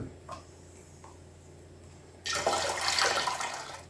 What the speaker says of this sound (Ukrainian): Зливаємо маринад.